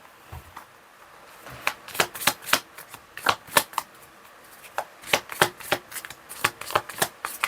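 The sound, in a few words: tarot cards being handled for a reading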